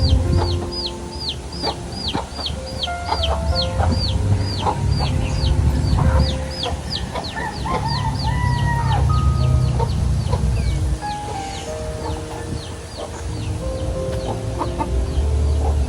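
Chickens inside a bedroom, near and loud, with repeated rapid clucks and chirps running throughout over a low background rumble.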